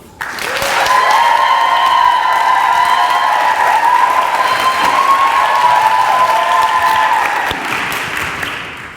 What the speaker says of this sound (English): please give it up for the one and only Isabel Hockey.